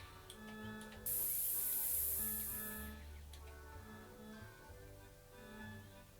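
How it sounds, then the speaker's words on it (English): A factory robot sprays parts in the management game Smart Factory Tycoon, producing a loud, steady hiss for about two seconds. It sits over a background of layered machine hums and tonal game music. "He's probably spraying those parts."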